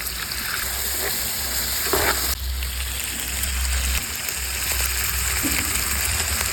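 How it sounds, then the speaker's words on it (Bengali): Spice masala of ginger paste, cumin paste, chili paste, chili powder, turmeric and salt, with a splash of water, sizzles and spatters in a pan for a hilsa and water lily stem dish. A dense, constant frying hiss carries a few stirring scrapes. "মশলাটা কষিয়ে নিব হালকা একটু পানি দিয়ে দেবো"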